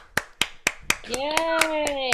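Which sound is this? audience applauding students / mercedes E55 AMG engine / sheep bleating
audience applauding students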